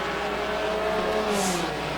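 Race cars roaring around the Devils Bowl Speedway track, a steady engine drone with pitch sliding down as a car passes, mid-distance and fairly loud, with no voices.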